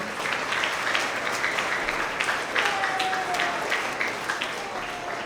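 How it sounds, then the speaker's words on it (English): Sustained round of audience applause for award recipients at a ceremony, a broad continuous wash of many hands clapping with a brief whistle rising above it. "let's have another big round of applause for all of our recipients today."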